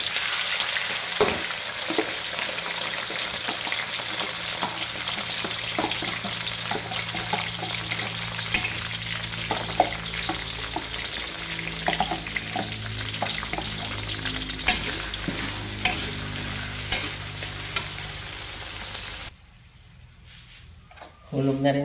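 Prawns (sugpo) frying in a pan while cooking pansit, a steady close hiss and crackle with occasional stirring clicks, a voice talking over it, the sizzle dropping away near the end.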